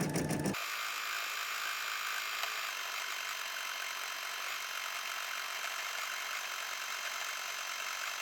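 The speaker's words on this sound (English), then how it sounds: "I'm gonna click the blinking green light. And it will stitch, and hopefully we will get good results this time." A Brother Skitch PP1 embroidery machine stitches a design with a steady, continuous high mechanical whir and buzz, close and unbroken throughout with no voices.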